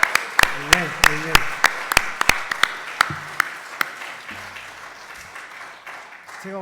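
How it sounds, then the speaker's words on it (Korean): A church congregation claps hands in praise, a scattering of sharp individual claps spread irregularly across the room, with brief bits of speech from a voice near the start and middle. "clap our hands to give glory to God."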